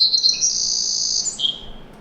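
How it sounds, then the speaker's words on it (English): A Savannah Sparrow song plays through a speaker: a thin, high, buzzy trill held steadily for over a second, then a brief lower buzzy ending, loud and clear with no talking. "I broadcast Savannah Sparrow songs like these 10 songs."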